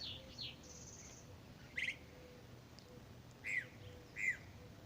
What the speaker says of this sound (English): Hear the mourning doves and the other birds?